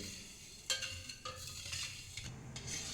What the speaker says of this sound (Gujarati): તો આને આપણે બરાબર મિક્સ કરી લઈએ